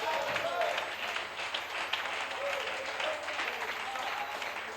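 A church congregation applauds the Lord during a French-English sermon, a steady wash of clapping and crowd noise filling the room, fairly distant and even, with a voice over it.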